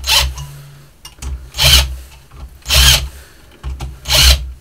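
A power drill whirs in four short bursts about a second apart, close by, screwing together engine parts during engine assembly, with quiet handling noises between them.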